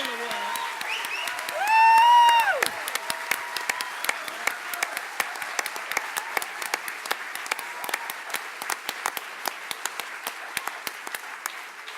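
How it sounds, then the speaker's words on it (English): Applause from a convention audience builds into continuous crowd clapping with a few individual sharp claps close by, following a brief burst of cheering or a loud vocal sound near the start. "I'd like all of us to give LCNA committee a huge round of applause for all the work."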